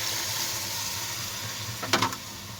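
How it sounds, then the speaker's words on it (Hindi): Water poured into a pot of frying tinda and chicken meat cooked in ghee, a steady sizzling hiss with a brief louder splash and bubbling burst near the end. "तो अब मैं इसमें डाल दूँगी पानी।"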